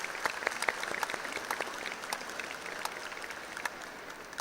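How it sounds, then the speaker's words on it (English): Scattered applause rises from the audience at a 2019 high school commencement ceremony, fairly quiet and distant, with individual sharp claps standing out over a soft crowd wash. "Graduates, please take a minute and give the people who have supported you a round of applause."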